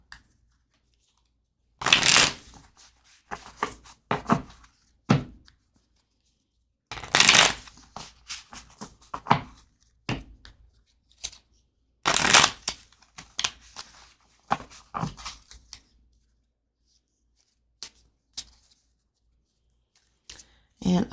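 Tarot cards being shuffled by hand in several separate bursts of crisp riffling and flicking, close and fairly loud, with quiet gaps between.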